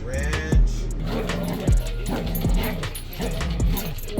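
Dog barking and whimpering while a campsite repair job goes on at Muddy Creek, several loud sharp barks spaced about a second apart over a continuous noisy background, no clear talk between them.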